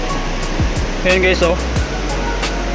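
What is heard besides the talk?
rushing water at Wawa Dam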